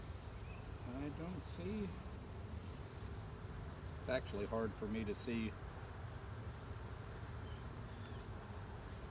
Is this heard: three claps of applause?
no